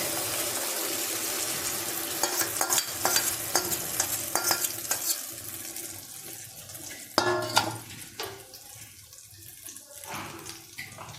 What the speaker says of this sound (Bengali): তেল গরম হয়ে গেছে, এই যে আমি গোলাটা দিয়ে দিচ্ছি।